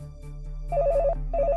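Landline telephone rings in a home setting, a steady electronic warble in two short bursts separated by a pause, loud and close with no voices.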